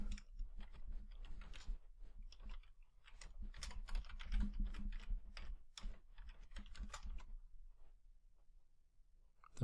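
Fingers typing a password on a computer keyboard, a quiet irregular patter of key clicks in quick runs with brief pauses, close and soft with no talk.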